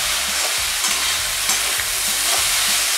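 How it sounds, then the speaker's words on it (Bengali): Eggplant slices frying in a pan while being stirred now and then, a steady close sizzle with soft scraping strokes recurring about every half second, no voices. "আমি মাঝে মাঝে বেগুনগুলো নাড়তে থাকবো, না হলে পুড়ে যাবে।"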